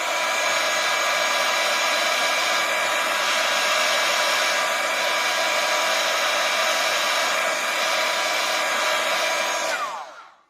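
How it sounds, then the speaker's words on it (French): A hair dryer blows steadily to dry paint on a mixed-media tissue box, a loud continuous whir that runs unbroken for about ten seconds before cutting off. "On va sécher pour pas que ça se mélange avec l'antique."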